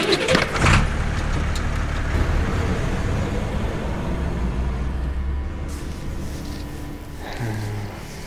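A car drives along with a steady rumbling engine and road noise filling the cabin, fairly loud and continuous, with a brief clatter at the start and a shift in tone near the end.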